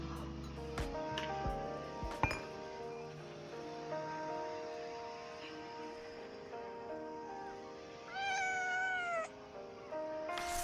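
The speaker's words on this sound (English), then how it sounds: "Cat." A cat meows in the video game Wuthering Waves, a few short mews followed by a longer wavering meow near the end, set over a steady musical game soundtrack with no talk.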